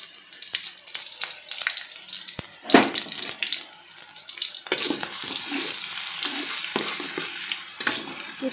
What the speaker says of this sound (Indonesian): Kita tumis bawang merah seperti biasa ya